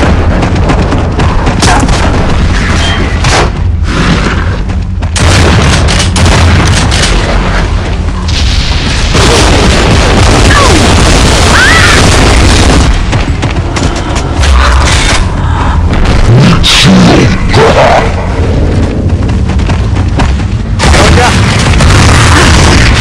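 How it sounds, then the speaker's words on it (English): A grenade blast in a battle game with an RPD machine gun, set within a dense, continuous wash of loud combat noise, heavy booms and gunfire running throughout with no quiet moments. "She threw a grenade, she stood there."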